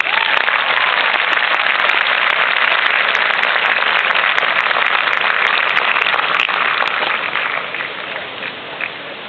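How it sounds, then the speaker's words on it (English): A graduation crowd applauds at a valedictorian speech, broad steady clapping filling the room for several seconds before gradually thinning and softening toward the end. "Can we have a round of applause for them?"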